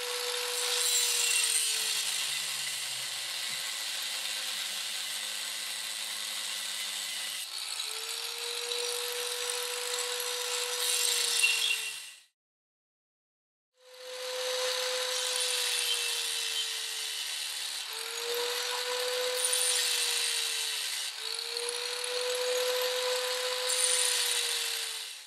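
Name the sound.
cutting gas bottle steel with jigsaw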